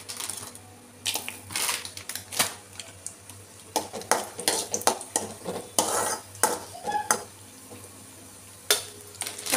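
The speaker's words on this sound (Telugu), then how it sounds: "7-8 జీడిపప్పులు వేయించుకోవాలండి." Cashews, and then raisins, frying in a pan for semiya payasam, a quiet sizzle under brisk, rapid clicking and scraping of a spoon against the metal, close and busy throughout.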